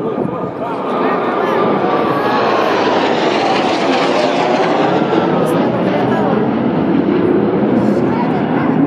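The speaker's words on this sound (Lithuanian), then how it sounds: "Čia ką tik siaubingai garsiai praskrido kariniai lėktuvai." Military jet planes pass low overhead with a loud, continuous roaring rush that swells and holds for several seconds near the coast, with a person talking over it.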